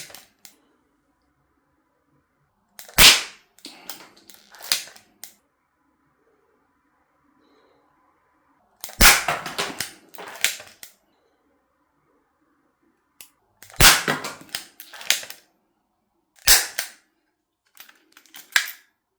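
A Chinese Colt Python-style metal spring toy revolver fires several sharp, close snapping shots, spaced a few seconds apart, each followed by small mechanical clicks and handling noises in a quiet room.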